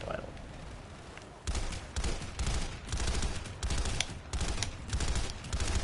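A gun is hip-fired in the Planetside 2 video game, with loud, rapid bursts of automatic fire coming in several close clusters after a quieter opening.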